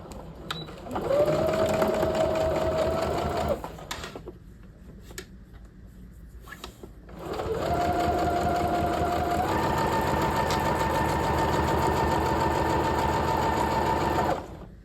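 A sewing machine stitches a double welt pocket on a half-scale jacket in two long runs of fast, steady whirring, separated by a quiet pause with a few clicks and handling noises.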